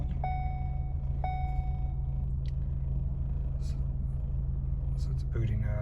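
A 2014 Ford Focus with a transmission fault idles just after starting, a low steady engine hum that holds throughout, with electronic chimes from the dashboard near the start and end.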